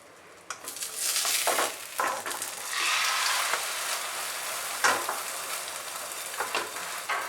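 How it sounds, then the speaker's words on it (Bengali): An omelette fries in hot oil with a steady, bright sizzle and crackle. Utensil stirs and scrapes come and go, and the sound stays close and fairly loud with no talking. "তেল গরম করে অমলেটটা ফ্রাই করে নেব।"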